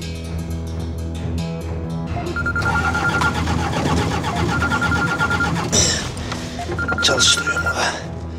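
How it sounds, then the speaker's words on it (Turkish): A vehicle engine cranks and catches, a steady mid-pitched rumble under loud background music, with a repeating electronic tone running through. "Hadi Keşan, çalıştır şunu"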